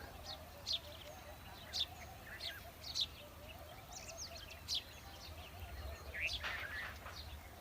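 Sparrows chirp in short, repeated bursts at a moderate distance in the early morning, scattered across a quiet outdoor background with a faint low hum.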